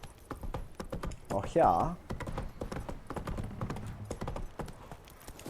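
The horse Roach clip-clops at a steady trot in The Witcher 3, with rapid hoofbeats throughout and a brief snort or whinny early on, under a man's speech.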